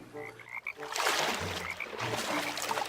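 Frogs croak by a lake in a dense, overlapping chorus of repeated calls, loud and close, with no talking over them.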